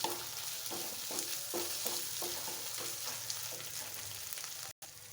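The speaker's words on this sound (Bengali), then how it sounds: "মশলাটাকে ভালোভাবে কষিয়ে নেব।" Spice paste for a spicy chicken curry fries in a pan and is stirred, giving a steady soft sizzle broken by regular scraping strokes, close and fairly quiet, with a brief dropout near the end.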